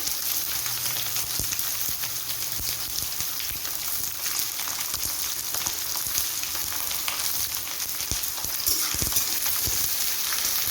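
Onions fry in hot oil for a meat curry, giving a loud, continuous sizzle with scattered crackles and sharp pops throughout.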